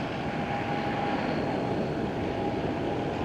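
Emirates airliner in the old livery passing at Schiphol airport in Amsterdam, a steady, loud broadband engine roar that holds evenly throughout with no talk.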